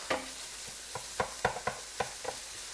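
Marshmallows being stirred in a warm pot until they dissolve: about eight quiet, separate scraping strokes of a spoon against the pot, spaced irregularly, with no voices.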